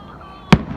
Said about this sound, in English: How long do the fireworks usually last?